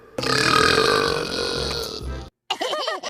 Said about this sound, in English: That was a good belch